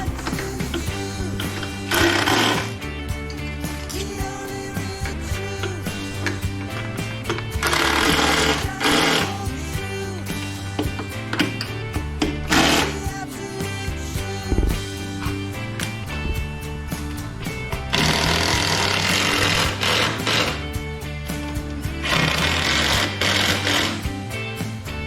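A power tool running in headlight bolts on a Harley-Davidson Road Glide during a LOYO headlight install, a loud buzzing rattle in several bursts with brief pauses between them.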